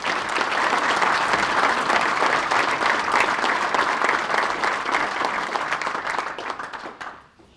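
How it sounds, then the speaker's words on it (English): A room of attendees at a golf association spring meeting claps steadily in sustained applause for nearly seven seconds, full and close, before it thins and dies away at the end. "let's give him another round of applause"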